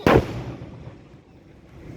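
A single loud firework bang at the start, followed by a fading rumble and low background noise, at a Tamil temple festival for the goddess Amman.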